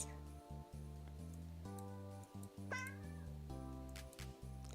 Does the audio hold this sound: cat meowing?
yes